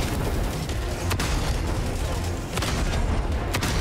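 Two sharp, booming explosions in Helldivers 2 punch through a constant rumbling backdrop, one early and one near the end.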